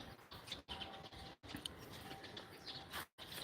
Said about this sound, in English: And these birds are quite vocal in the evening.